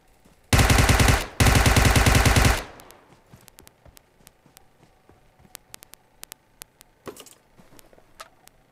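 Automatic gunfire in PUBG Mobile: two loud, rapid bursts at close range, then scattered sharp clicks and ticks with a brief rustle, no talking.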